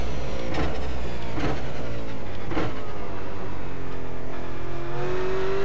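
A Holden Commodore VF race car in iRacing, lapping Bathurst, its engine droning steadily with a few sharp gear-change bursts early on, then a rising whine as the car accelerates.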